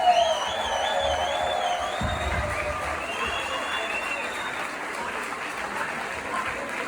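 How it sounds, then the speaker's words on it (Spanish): An audience applauds the herald at the Cimavilla 2022 fiestas, a steady dense wash of clapping and crowd noise that holds evenly for several seconds, with faint whistles riding on top. "demos un fuerte aplauso a la pregonera de las fiestas de Cimavilla 2022"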